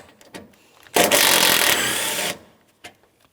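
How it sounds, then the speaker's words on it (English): A mounting bolt comes off during radiator replacement on a 2007-2014 GMC Sierra 2500 HD: one loud, close, broadband burst lasting just over a second, framed by a few soft clicks and knocks. "I'm going to go ahead and remove my mounting bolt."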